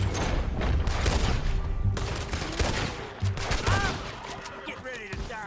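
Rapid bursts of gunfire crackle through a Red Dead Redemption 2 shootout, dense volleys up front easing into scattered shots and echoes, with a voice briefly heard in the mix.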